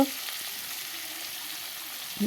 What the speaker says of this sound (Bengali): গাজর আলুটাকে ভাজা করে নিই